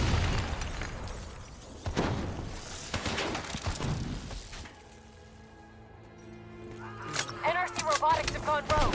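Rogue robots detonate in Call of Duty: Black Ops III. Loud rumbling blasts and bursts fill the first half under dialogue, then a quieter humming mechanical stretch gives way to sharp crackling pops near the end.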